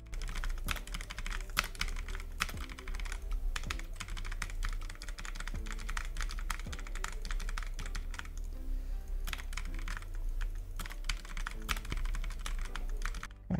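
Rapid clattering keystrokes on a computer keyboard while playing Bloons TD Battles, dense bursts of clicks and taps, close and fairly loud, with short pauses between flurries.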